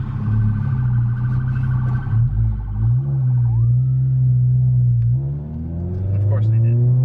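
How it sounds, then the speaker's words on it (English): An ambulance siren wails through street traffic on a rainy corner, its wavering tone riding over a loud, close car engine hum before fading near the end. "So, there's an ambulance right."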